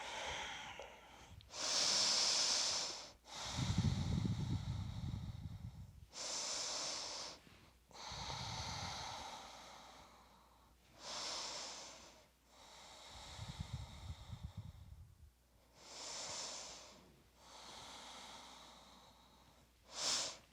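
Slow, deep breathing during a prenatal yoga exercise, with audible airy inhales and exhales repeating in long, even cycles, close and fairly quiet.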